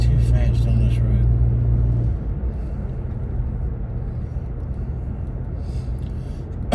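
Cars speeding along a 45 mph road with a curve, a loud steady engine rumble close by at first, then a broad whooshing road noise as traffic rushes past.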